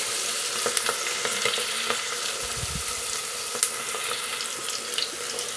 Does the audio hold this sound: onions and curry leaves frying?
yes